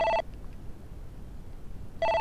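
Telephone ringing in the PS1 game Tantei Jinguji Saburo: an electronic trilling ring, heard as a short burst that cuts off, a quiet gap, then the ring starting again, clear and close.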